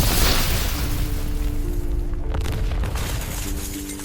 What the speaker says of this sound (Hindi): और फिर ठीक 9:05 पर एक धमाका।